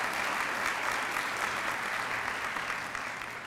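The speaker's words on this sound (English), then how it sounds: "That deserves a round of applause." Audience applause at a community college foundation partners breakfast, a continuous, even patter of many hands clapping that holds steady and fades slightly at the end.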